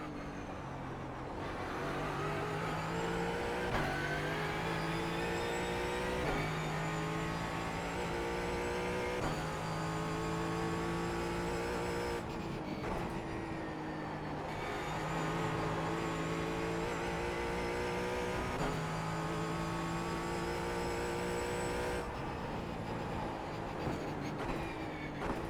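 A Ford Mustang race car lapping the Summit Point race track, its engine droning steadily and loud throughout with shifting pitch as it revs and changes gear, no voices over it.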